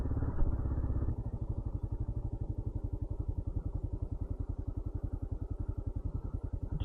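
A motorcycle rides slowly through snow with a gentle throttle, its engine chugging in a steady, close, rhythmic pulse that stays fairly loud and even throughout, with no talking.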